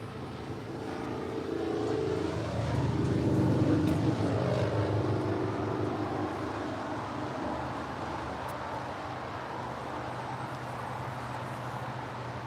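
An aircraft on approach to land on runway 25 left at LAX, a low engine roar that swells over a few seconds and then fades into a steady distant rumble, heard from outside the airport.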